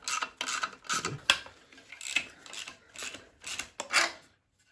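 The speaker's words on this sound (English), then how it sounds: "I'm just going to get this little bit of heat shielding off here" Heat shielding being worked off a Ford Fiesta Mk7 1.0 EcoBoost engine, giving close, irregular bursts of rasping, scraping metal about once every half second, then ending in quiet.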